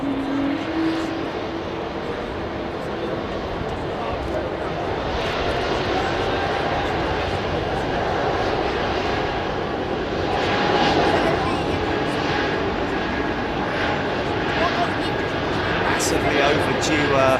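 An Airbus Beluga XL departing Heathrow Airport, a steady, broad jet roar that builds gradually and holds for the whole stretch, with a person talking over it.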